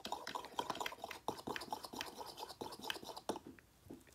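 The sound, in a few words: mixing highlighter color by stirring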